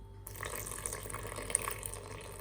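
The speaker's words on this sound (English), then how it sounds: "we have to just add 260 milliliter of water as specified in the recipe" Measured water, 260 millilitres, is poured into a bread machine pan, starting after a brief silence as a steady, close trickle and splash with a few sharper drips.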